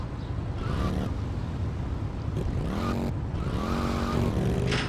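A motorcycle engine in the video game GTA Vice City drones steadily and loudly throughout, its pitch rising and falling in short revving sweeps.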